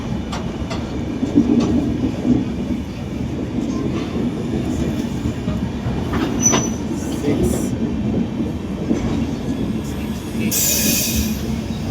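Humsafar Express train carriage rumbling steadily as the train brakes, with brief high wheel squeals over the clatter, strongest near the end, and some faint voices.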